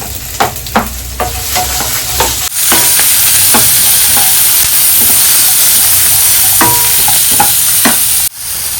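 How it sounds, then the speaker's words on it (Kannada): Chopped onions fry in a pan for a home-style bassaru: a loud, close, continuous sizzle and hiss with repeated scraping stirs that click now and then. "ಈರುಳ್ಳಿ ಇಷ್ಟು ಫ್ರೈ ಆಗ್ತಿದ್ದ ಹಾಗೆ"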